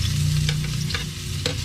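Ingredients for fried rice fry and get stirred in a hot pan, giving a constant close sizzle broken by a few quick scraping stir strokes, with no talk.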